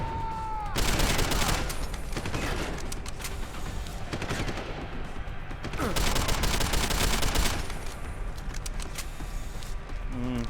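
Sustained automatic gunfire in Deus Ex: Human Revolution, dense rapid bursts in two long volleys with brief lulls between, loud and close within the game's combat soundscape.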